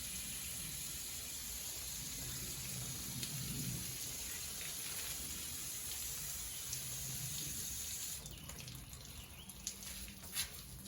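Water runs steadily from a tap or hose while ferns and other potted plants are watered outdoors, a continuous moderate rush that shifts and spatters near the end.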